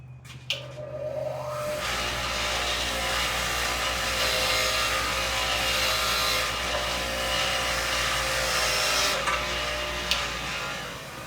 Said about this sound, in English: I'm gonna clean this one up on the bench grinder